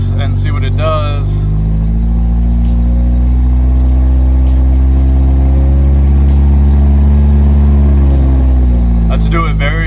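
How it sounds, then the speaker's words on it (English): A K-swapped car engine stuck in limp mode, running steady and loud with a deep, droning hum that holds throughout with little rise in revs, and a voice briefly audible near the start and end. "I'm gonna kind of press on the gas and see what it does."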